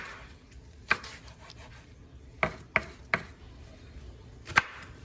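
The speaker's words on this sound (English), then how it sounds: "I'm gonna cut this onion up. So you're gonna cut the onion up." A knife slices an onion into strips on a cutting board, producing about seven sharp, separate chops at an irregular pace, close and fairly quiet, with no talk.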